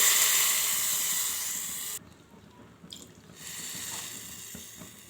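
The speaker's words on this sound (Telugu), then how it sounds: "ఇప్పుడు ఇందులోనే అదే కప్పుతోని 2 కప్పుల వాటర్ అయితే వేసుకోవాలి" Water poured into a cooking pan with a bright, hissing rush that breaks off for a moment, with a couple of small splashes, then resumes.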